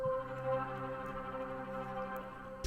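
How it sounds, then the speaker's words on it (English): A sustained Blacklist synth pad one-shot sample from an Antidote one-shot kit rings as a quiet, steady harmonic chord with a smooth, unchanging texture for nearly three seconds. "Then I took this Blacklist pad one shot, also from my Antidote one shot kit"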